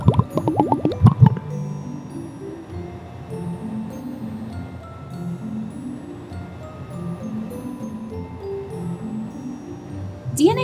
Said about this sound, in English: I'm gonna carefully pour some of this rubbing alcohol into the dish and see what happens.